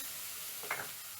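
A single quick stir of vegetable gumbo in a pan gives one brief, faint scraping swish about halfway through, set against a low, steady background hiss.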